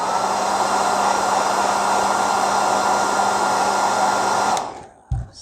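A hair dryer blows hot air onto a wrinkled decal on an RC car, a loud, steady whine and rush that runs evenly for several seconds before abruptly switching off, followed by a brief handling clatter.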